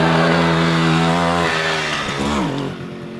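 A small two-stroke moped engine, a Pony with an E50 motor, buzzes loudly and close, its pitch dropping as it passes by, then fading.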